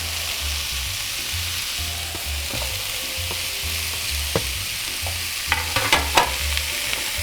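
Shallots, garlic and thyme sizzling in a pan for short ribs, a steady close hiss of frying with a low rhythmic rumble and occasional scraping stirs and clinks near the end, no talking.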